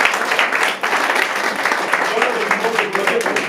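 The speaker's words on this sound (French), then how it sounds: "On peut les applaudir." An audience applauds at the opening of a hacking night event, a crowd clapping steadily for several seconds at moderate loudness, the sound dipping briefly near the start.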